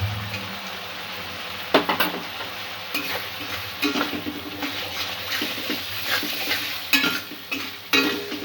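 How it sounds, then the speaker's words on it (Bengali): Spices being stir-fried in oil for a Bengali chhana curry, with repeated close scraping and tapping of a spoon against the pan over a soft sizzle in an irregular rhythm. "মশলা থেকে যতক্ষণ না তেল ছাড়ছে ততক্ষণ মশলাটা কষে নেব আমি"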